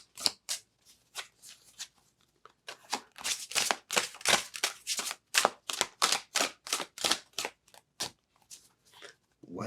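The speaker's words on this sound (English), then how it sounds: "Really good shuffle." A deck of tarot cards is riffled and bridged in quick repeated bursts, each a crisp flapping rustle, with short pauses between runs and then a slower, sparser finish; close and fairly quiet.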